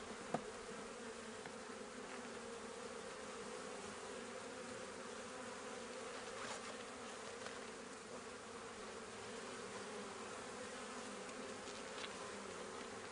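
Honey bees buzz continuously around a nuc hive during an inspection, a faint, even drone of many insects nearby with a few louder ones passing close.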